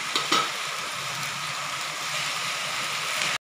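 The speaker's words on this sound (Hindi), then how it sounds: "देखिए मसाले में अच्छे से मटर और आलू को मिलाते हुए थोड़ा भून लेंगे।" Peas and potatoes fry in a spiced masala in a pan, giving a steady, close sizzle with a few stirring scrapes near the start, no voices, and a sudden cut at the end.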